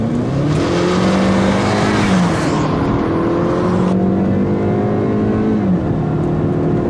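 A 2015 Hyundai Sonata Sport with a 2.0L turbo engine accelerating at full throttle in snowy conditions, the engine note rising steadily through gears with brief dips at each shift, loud and close from inside the car.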